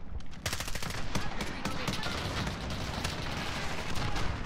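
Dense, continuous automatic gunfire in a video game firefight, overlapping bursts of shots and booms rattling steadily and loudly with faint talk underneath.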